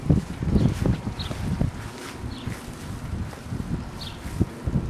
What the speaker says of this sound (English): the full force of the wind